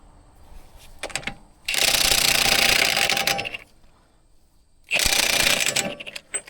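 Ratchet wrench with a 30 mm 12-point socket working a Toyota Corolla axle nut, loud rapid mechanical clicking in two long bursts separated by quiet, with a few softer clicks before each.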